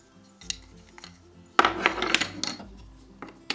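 Toy salad pieces being tossed in a play bowl, light plastic clattering and tapping in scattered clusters with a busier burst of knocking in the middle, close and fairly quiet.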